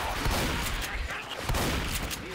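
Dense gunfire crackles in the zombie shooter Left 4 Dead 2, with pistol shots going off in a rapid, continuous burst that stays loud for the whole moment.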